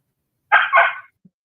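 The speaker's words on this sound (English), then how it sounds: "Dog in the back." A single bark from a dog in the background of a podcast recording, a short two-part woof, fairly clear against silence, followed by a tiny faint yip.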